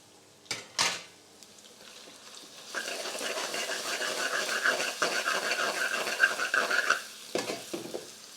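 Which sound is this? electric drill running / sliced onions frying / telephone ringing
sliced onions frying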